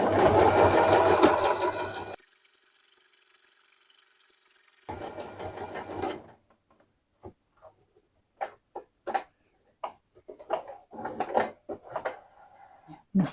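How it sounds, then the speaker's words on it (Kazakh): A sewing machine stitches a fabric bag in a loud, continuous whir. It stops for a few seconds, runs again briefly, then gives way to scattered handling clicks and taps. "Сызыққа дейін тігіп алдық."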